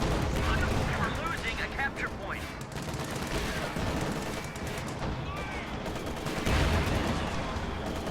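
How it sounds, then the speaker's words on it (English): HE artillery shells exploding on grenadiers in a real-time strategy game match, with repeated bursts and gunfire crackle over dense battle noise while a voice talks throughout. "HE shells deployed on those grenadiers over here, making their way towards the middle"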